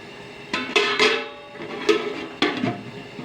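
Several metallic clanks and scrapes ring out close by as a lid is set on a pot of beef pulao with rice, coriander and lemon, in uneven knocks spread over a few seconds, with no talk.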